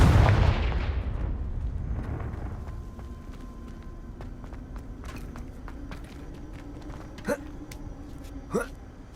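A fiery Confringo blast spell explodes in Hogwarts Legacy on PS5: a loud, booming burst at the start that fades into a long rumbling tail, followed later by two sharp, cracking impacts.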